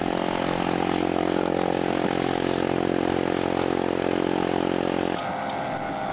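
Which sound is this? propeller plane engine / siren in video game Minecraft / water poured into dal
propeller plane engine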